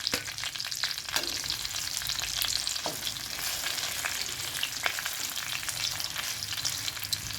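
Second batch of chicken frying in hot oil, a steady dense sizzle with crackling pops and occasional scraping stir sounds, close and continuous with no talk.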